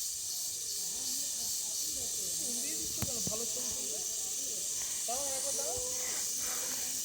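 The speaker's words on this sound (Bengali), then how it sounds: "খুবই মানে খুব জোরে জোরে ডাকছে ঝিঝি পোকাগুলো" Loud night-time cricket chorus makes a steady, dense high hiss near a railway line by the New Mal Junction station in offbeat North Bengal, with a few faint tonal calls and soft rustles underneath.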